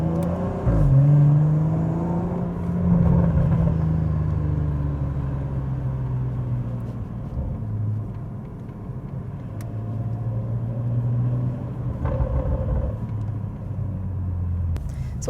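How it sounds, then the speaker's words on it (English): A BMW's engine and exhaust rumble steadily while driving, a low, continuous drone that swells and eases gently with throttle, heard from inside the cabin with no talking. "I've always wanted a BMW, just purely because of the sound of the exhaust."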